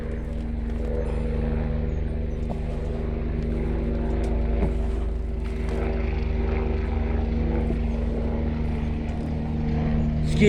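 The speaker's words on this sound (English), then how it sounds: "It looks like one of the medical helicopters" A medical helicopter passes overhead above a potato field, its low steady rotor and engine drone filling the whole stretch at a constant, fairly loud level.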